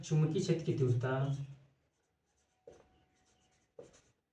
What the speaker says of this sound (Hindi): अब फिर इसके बाद लिखेंगे